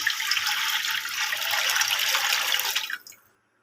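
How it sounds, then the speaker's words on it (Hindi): Fresh milk, two litres, poured into a pot to make kheer, a steady splashing liquid stream for about three seconds that then stops abruptly. "खीर बनाने के लिए हमने 2 लीटर दूध लिया है, फ्रेश मिल्क, वो हम इसमें डाल देंगे"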